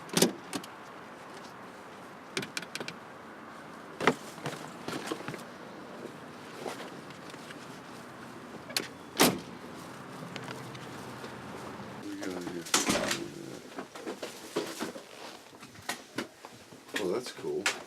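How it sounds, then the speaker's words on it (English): An automatic car wash running, with hissing water spray and sharp bursts and thumps of machinery around the car, heard from inside while people talk. "Car wash."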